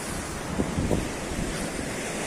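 Sea waves break where the Kadalundi river meets the sea, a steady close wash of surf roaring continuously with wind buffeting the microphone.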